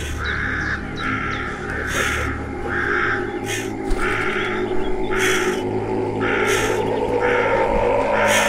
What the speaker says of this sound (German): Es sind nur Vögel.